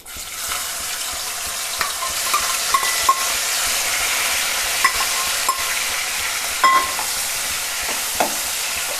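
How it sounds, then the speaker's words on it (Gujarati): Chopped onion and tomato fry in hot oil with curry leaves, giving a steady, loud, close sizzle broken by occasional stirring scrapes of a utensil against the pan. "આપણે આ ડુંગળી અને ટમેટું સમારેલા છે એને એમાં જવા દેશું"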